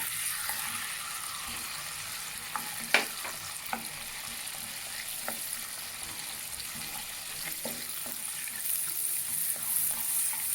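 Butter, onion and chopped vegetables such as cabbage sauté on a flat tawa over high gas, giving a steady soft sizzle with occasional clicks and scrapes of stirring, close and fairly quiet throughout.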